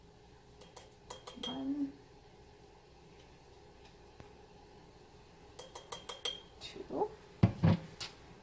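Metal measuring teaspoons clink and rattle against each other in a kitchen while spices are measured for pickled Brussels sprouts, a few light jingling bursts early and a busier cluster near the end, with a person counting aloud.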